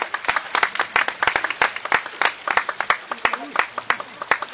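Scattered, uneven hand claps ring out from a church congregation, sharp individual claps with gaps rather than a dense ovation, moderately loud and close.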